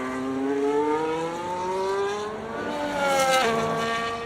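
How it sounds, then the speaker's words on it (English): Engine of a Williams FW47 Formula 1 car in the F1 25 video game, revving high and sweeping down through gears, then a sharp rise around a shift, loud and alone without speech. "the engine sounds it's much more fitting in the replays"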